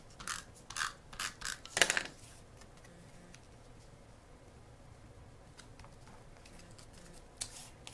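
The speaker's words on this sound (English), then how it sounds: "And then I want to trim off the excess, like so." Scissors snip through Designer Series paper while excess is trimmed from a handmade Christmas tree gift tag, giving a few sharp close cuts early on, then a quieter stretch with faint handling.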